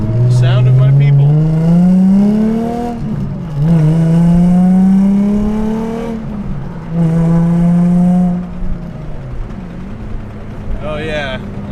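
A four-door drift car engine revs loudly and climbs through gears, with tires squealing and skidding under the roar; the engine drops away toward the end.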